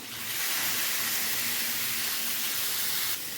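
Boneless chicken, a quarter kilo, hitting hot butter in a pan sets off a steady, bright hissing sizzle that holds evenly for a few seconds, close and fairly loud with no talking.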